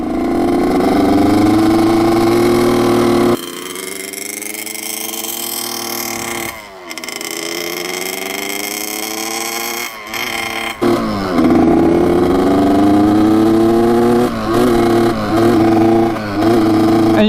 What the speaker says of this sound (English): you're supposed to kind of rev it, let off the rev, rev it, let off the rev when you're braking this guy in